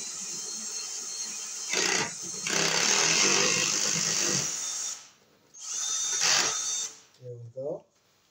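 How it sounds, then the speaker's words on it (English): A power drill with a spade bit whirs in two bursts through an electrical box, a steady high whine and grinding as the bit cuts, separated by a pause, with brief speech afterward. "So I just drill right in the center for the wires."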